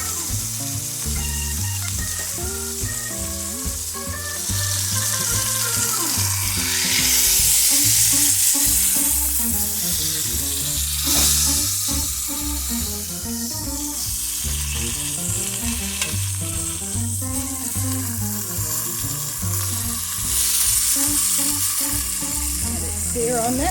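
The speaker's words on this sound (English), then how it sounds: "set it up and let the edges sear." A roast beef searing in a pan, its edges crackling with a loud sustained sizzle close by, while music plays steadily underneath.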